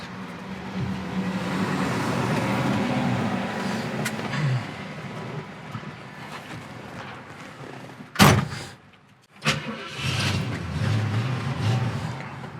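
A 1967 Ford Fairlane GTA with a 390 V8 idles steadily, a close, continuous low rumble, briefly interrupted midway by a sharp mechanical clunk and a short lull before the idle resumes.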